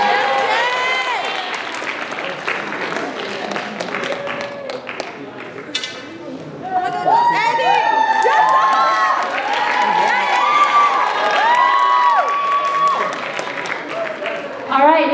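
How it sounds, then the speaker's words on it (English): Festival audience applauding and cheering for skit performers on stage, a loud, sustained crowd roar with clapping, shouts and whoops, rising louder partway through and holding to the end; voices call out amid the noise. "let's give them a big round of applause"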